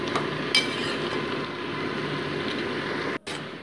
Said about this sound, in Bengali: দিয়ে মোটামুটি এটাকে আরও 2 মিনিটস আমি ভেজে নিচ্ছি।